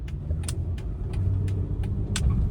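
A 2011–2017 Honda Odyssey minivan accelerating on a test drive, a steady low engine and road drone from inside the cabin rising slightly in loudness, with a few faint clicks and no talking.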